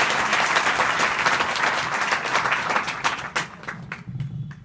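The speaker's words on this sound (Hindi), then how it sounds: "इनके माँ बाप के लिए तो कम से कम एक ताली तो बजा दो।" Students at a girls' higher secondary school applaud a classmate's parents, a loud, dense burst of many hands clapping that gradually thins out, leaving a few scattered, separate claps near the end.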